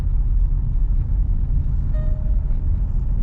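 A Land Rover cruises slowly in sixth gear at about 15 mph, its low engine and road rumble steady and close inside the cabin, with a brief faint whine near the middle.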